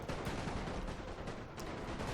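Musket volleys from infantry regiments in Napoleon Total War's Great War mod, a dense, continuous crackle of rifle fire at moderate distance with no pauses.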